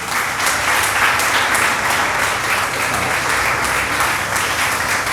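Sustained audience applause for a prize winner at a school essay and elocution competition, dense steady clapping from a large crowd throughout, heard alone without talk.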